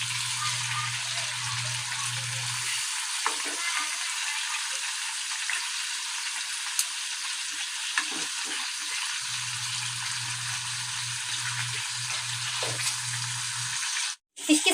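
Fish fries in a pan over low heat, giving a steady, close hiss and crackle of oil that runs throughout, with a faint low hum coming and going underneath.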